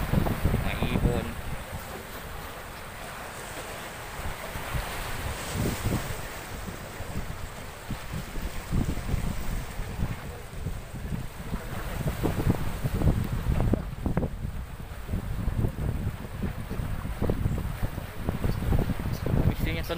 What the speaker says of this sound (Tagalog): tunog ng dagat ha.